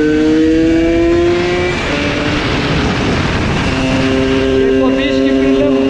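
A scooter engine drones and revs loudly during a ride at a scooter meeting, its pitch rising and falling over heavy wind rumble, with a voice talking over it.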